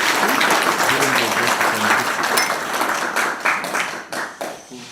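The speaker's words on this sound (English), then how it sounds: "can we clap more convincingly?" An audience at a conference session claps loudly, a thick crowd applause with many overlapping hands that tapers into sparser, distinct claps near the end.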